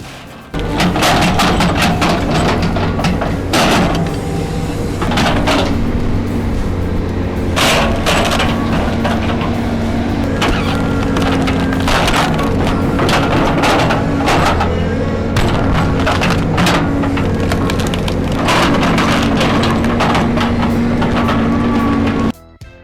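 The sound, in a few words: firewood processing machine cutting logs into posts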